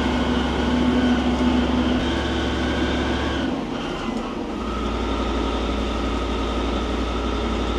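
A Ford Steiger FW30 tractor engine runs with a loud, steady, low droning rumble that dips briefly partway through, then settles back into a constant heavy hum.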